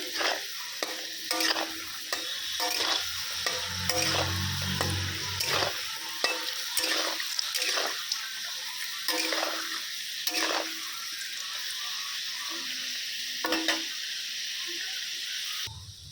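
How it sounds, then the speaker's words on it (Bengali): Boiled potatoes frying in a pan like chips and being stirred, with a steady sizzle broken by repeated scraping utensil strokes throughout, close and fairly loud. "সিদ্ধ করা আলু ভাজবো চিপসের মতো"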